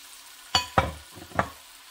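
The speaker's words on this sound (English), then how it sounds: "You will brown your beef." Flour-dredged beef pieces hitting a hot cast iron Dutch oven, three sharp sizzling bursts as each piece is laid in, close and quiet between placements, with no talk.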